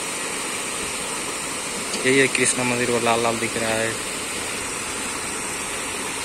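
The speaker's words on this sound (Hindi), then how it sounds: "ये झरना है, कितना सुंदर दिख रहा है" A waterfall at the Krishna temple in Kathmandu, Nepal, gives a steady, broad rushing roar throughout, while someone speaks briefly over it partway through.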